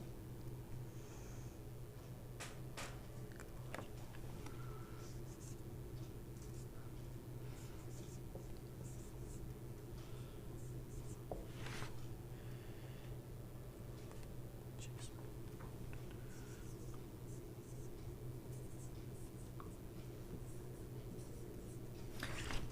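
Marker or chalk writing on a board during a reasoning lesson, faint intermittent scratching strokes over a steady background hum, with quiet speech at times.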